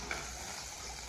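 Desi ghee sizzles in a pan as a tadka tempering for winter saag is made, a soft, steady crackling hiss that stays faint and even throughout, with no voices.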